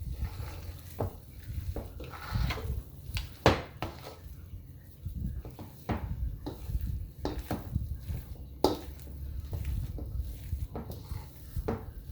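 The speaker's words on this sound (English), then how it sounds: "So just mix that to combine." Jalapeno popper filling is stirred together in a bowl, a quiet run of scraping, tapping utensil strokes coming in irregular bursts, close and soft, with no voices.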